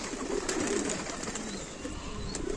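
Pigeons coo softly in a loft, low murmuring calls under a steady background rumble, close but fairly faint, with no talk.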